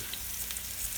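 Curry leaves hit hot oil and set off a steady, fairly faint hiss of frying with a few soft crackles. No one speaks.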